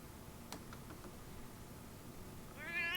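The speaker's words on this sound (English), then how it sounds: "Oh, okay, I hear you, cat." A cat meows in the video game Lost Judgment, a short rising cry near the end of a quiet stretch with faint background clicks.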